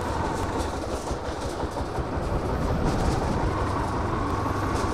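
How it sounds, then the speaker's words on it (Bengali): A freight train rolls along the railway by a bypass road in Biral, Dinajpur, on the India–Bangladesh cross-border route. Its steady, loud rumble and clattering wheels run continuously and close by throughout, with no voices. "মালবাহী ট্রেন আসবে ভারত থেকে বাংলাদেশে, আবার বাংলাদেশ থেকে ভারতে যাবে মালবাহী ট্রেন"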